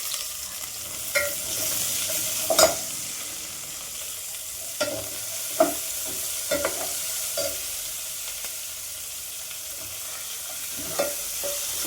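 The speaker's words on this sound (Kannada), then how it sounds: "ಮೀಡಿಯಮ್ ಉರಿಯಲ್ಲಿ ಈರುಳ್ಳಿ ಹಾಕಿ ಚೆನ್ನಾಗಿ ಫ್ರೈ ಮಾಡಬೇಕು." Chopped onions and curry leaves fry in oil over a medium flame for a drumstick stir-fry, giving a steady soft sizzle broken by occasional scraping stirs and clinks of a spoon, with no talking.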